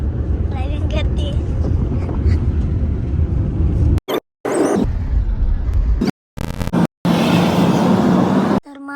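A car on the road to Nashik, with the mother at the wheel, gives a steady low engine and road rumble mixed with wind noise. Voices talk over it, and the sound cuts out in several short gaps.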